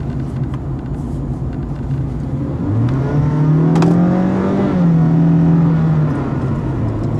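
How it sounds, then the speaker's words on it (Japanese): A Honda Freed Hybrid with a VTEC petrol engine accelerates under throttle on a test drive. A smooth engine note rises and holds in pitch above a steady cabin rumble, then settles back down. "元気なエンジン音が聞こえてきますね。"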